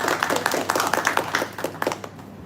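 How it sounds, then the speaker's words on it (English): Short round of applause from a small seminar audience, a handful of people clapping at an uneven pace, fairly quiet in a room and tapering off after about two seconds. "please give a big round of applause"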